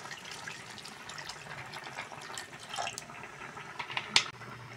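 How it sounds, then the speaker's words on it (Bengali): Water poured into flattened rice (chira) in a kitchen as a soft, steady trickle of liquid, ending in a sharper splash near the close. "চিড়ের মধ্যে জল দিয়ে দেবো।"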